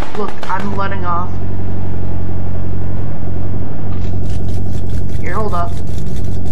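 A low, steady car engine rumble in a Roblox drag racing game drones throughout, loud and constant, with a couple of brief voices cutting in near the start and end.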